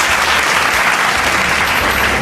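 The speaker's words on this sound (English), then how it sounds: "A round of applause, please." Studio audience applause greeting guests at a panel show on 21st-century teachers, a dense, steady clapping wash at close range that holds throughout without any speech.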